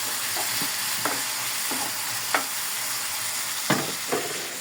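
Garlic sautéing in a pan for a Kapampangan catfish dish, a steady close sizzle with a few sharp scrapes of a spatula against the pan spaced across the stretch, no voices.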